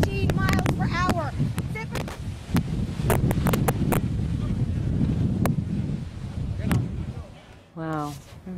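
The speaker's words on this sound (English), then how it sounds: "We are feeling wind gusts that have been reported here of 113 miles per hour." Hurricane Maria's gusts, reported at 113 mph, buffet a microphone in Puerto Rico, a rough roaring rumble with sharp bursts and cracks throughout, while a voice speaks briefly near the end.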